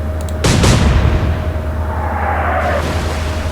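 Naval gunfire in the Atlantic Fleet wartime naval game: a loud, booming cannon blast lands early, then a rumbling decay sinks into a steady low drone.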